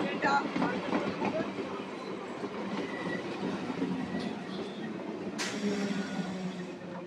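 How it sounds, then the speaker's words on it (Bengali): A Goghat-Howrah local train runs alongside on the Howrah-Tarakeswar line, its steady rumble and wheel clatter filling the air throughout, with a brief metallic squeal partway through. "পাশে গোঘাট হাওড়া লোকাল"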